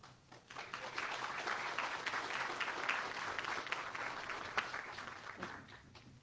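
An audience at a formal ceremony applauds introduced guests, sustained steady clapping from a crowd that swells and holds for several seconds.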